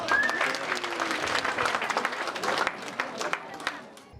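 Audience applause at a school annual day celebration, loud dense clapping from a large crowd that gradually thins and tapers off.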